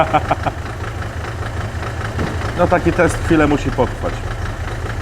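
A car engine with a leaking head gasket idles with a steady low rumble while people talk nearby over it.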